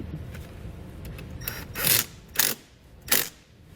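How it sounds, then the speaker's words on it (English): A ratchet with a 10mm socket turning a nut during a trailer wiring harness install on a 2020 Mazda CX, giving a few short clicking bursts, close and fairly quiet. "We're going to use our 10mm socket to remove the nut."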